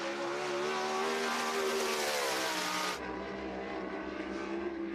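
A sprint car roars hard around the Cherokee Speedway dirt oval, its engine note loud, high and sustained, then dropping abruptly partway through as the car backs off.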